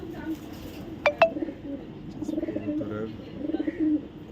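White racing pigeons coo softly in low, rolling murmurs, with a couple of sharp clinks near the start and faint background noise.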